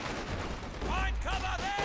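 Battlefield gunfire in Company of Heroes 2, a steady rattle of shots under shouted in-game voice commands, loud and close for the whole short stretch.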